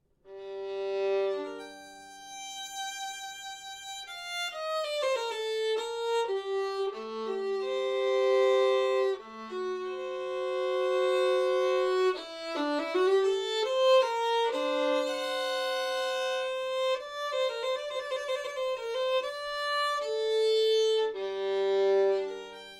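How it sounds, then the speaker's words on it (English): A bowed violin plays long, flowing, sustained notes in a continuous melodic line, heard alone and fairly close. "when I pull the bow across the strings of the violin, it makes a really beautiful,"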